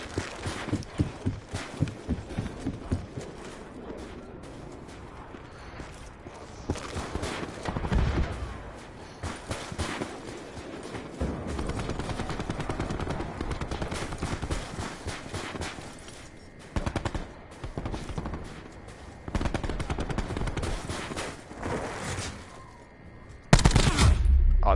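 Rapid gunfire from a Call of Duty Modern Warfare match, bursts of automatic shots and single loud reports alternating with quieter gaps, ending in a sharp close blast.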